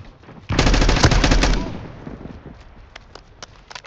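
A flashbang grenade goes off amid gunfire in a military video game, a sudden loud burst that holds for about a second and then trails off into ringing, with scattered faint sharp shots afterward.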